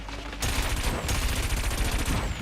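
Rapid cannon fire from a combat event in the racing game Wipeout 2048, a dense, loud, continuous stream of shots lasting a couple of seconds.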